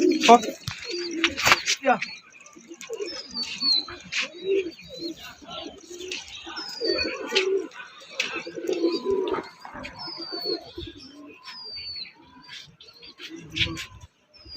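Domestic pigeons being flown outdoors coo in low, repeated calls throughout, mixed with higher chirps and bird calls over steady background noise.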